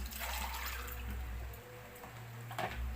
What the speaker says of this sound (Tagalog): lagyan nyo yun ng kahit isang basong tubig.